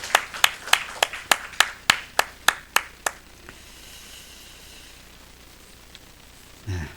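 A church congregation claps in unison during a Sunday morning service, about a dozen sharp, evenly spaced claps in quick rhythm that stop abruptly and leave a quiet room.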